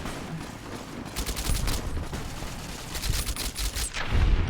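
Rapid bursts of gunfire from a newly picked-up gun in Fallout New Vegas, dense crackling volleys in two clusters over steady game ambience, loud and close.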